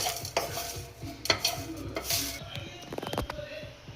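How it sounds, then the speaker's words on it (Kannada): Masala spices dry-roast without oil in a pan over a low flame, giving a soft, faint sizzle with the scrape and clink of a spoon stirring against the pan, close by. "ಲೋ ಫ್ಲೇಮಲ್ಲೇ ಮಸಾಲೆ ಹುರ್ಕೊಳ್ಳಿ."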